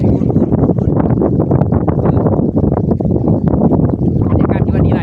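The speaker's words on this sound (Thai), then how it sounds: "ถ้าขึ้นมาฮอดบริเวณนี้ก็ถือว่ามีลมทุกคนเนาะ มีลมพัด" Strong wind buffets the microphone atop Pha Chang mountain peak, a loud, continuous rumbling roar with gusty surges throughout.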